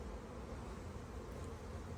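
Honey bees buzz during a hive inspection, a soft, continuous, even drone with no voices over it.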